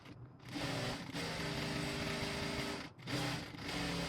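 A sewing machine stitches a stand collar onto a blouse, running in steady bursts with a brief pause partway through, its close mechanical whir loud and continuous.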